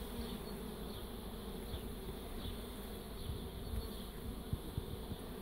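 Steady, close buzzing from many Carniolan honeybees, a continuous drone with faint higher whines drifting in and out, no voices.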